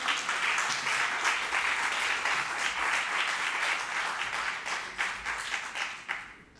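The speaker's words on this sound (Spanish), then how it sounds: "lo van a expresar con este aplauso otra vez" An audience at a rural development talk on climate change gives a round of applause, dense sustained clapping that holds steady and then thins out and fades near the end.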